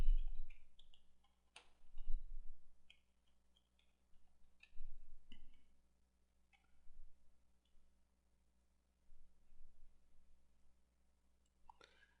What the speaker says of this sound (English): Now we're going to click go.